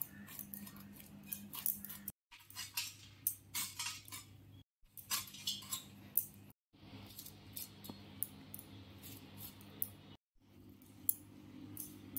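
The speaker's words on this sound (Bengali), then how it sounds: "এদিকে বন্ধুরা কাটা হচ্ছে এঁচড়" A knife cuts through young jackfruit in repeated irregular chopping and scraping strokes, close and crisp, interrupted by a few brief silent cuts over a low steady background hum.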